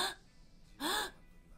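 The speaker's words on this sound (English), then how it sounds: "You're just gasping." A short, sharp intake of breath sounds once near the middle, preceded by a faint breathy onset, with quiet room tone between.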